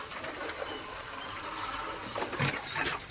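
Fresh tap water from a watering can sprinkles over a seed tray of okra sowings on an allotment, a soft, steady close patter and trickle with no talk.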